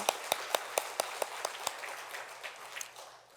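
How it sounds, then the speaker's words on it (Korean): A church congregation gives applause in a quiet hall: a handful of sharp, separate claps in quick succession, fading into scattered softer ones. "최고의 영광의 박수를 돌리겠습니다"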